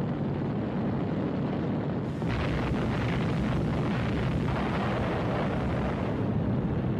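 Depth charges dropped by wartime patrol aircraft on U-boats in the Battle of the Atlantic, heard as a loud, sustained rumbling blast that surges after about two seconds and roars on without pause.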